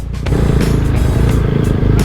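A motorcycle rides along a dusty, rough road in Quezon Province, its engine rumbling loud and close with a continuous throbbing drone and some clatter from the uneven surface.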